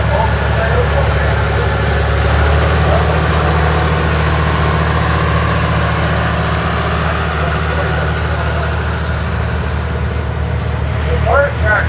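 A 1955 Oliver tractor with full wheel assist idles and rumbles steadily at an outdoor tractor parade at the National Oliver Show in Boonville, Missouri, a low engine drone with faint crowd sounds and voices around it.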